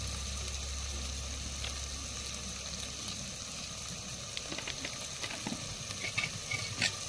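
Potato filling with chilli and garam masala being stirred and fried in a pan, giving a steady close sizzle with scraping stirs and a few sharper clicks toward the end, no voices.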